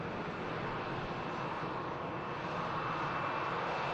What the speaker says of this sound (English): Here is Yankee Fox touching down, as I say, from Reus.